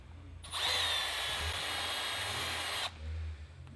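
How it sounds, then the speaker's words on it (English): A handheld power drill whines loudly for about two and a half seconds at steady speed, close up in a garage, then stops abruptly, leaving a low background rumble. "All right, I'm going to grab a drill."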